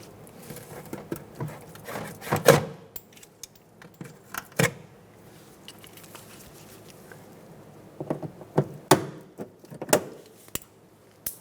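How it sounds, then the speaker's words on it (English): Plastic trim clips being pried and pulled from the washer reservoir area of a 2014-2019 Toyota Highlander, heard as scattered clicks, snaps and rubbing knocks in short bursts, close up with no talking. "And remove the 3 clips."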